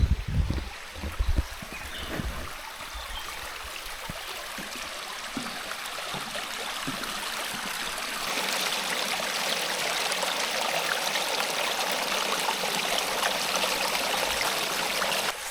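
Creek water streams steadily through Beaver Creek Valley State Park in Minnesota's Driftless Area, a close, continuous broadband rush that swells louder in the second half, with a few low thumps near the start and no voices.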